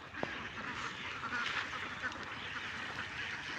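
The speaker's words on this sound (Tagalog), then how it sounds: "Kadaming itik." A flock of ducks quacking together in a rural field, a dense overlapping chatter of calls that runs steadily throughout, moderately distant, with no clear talk over it.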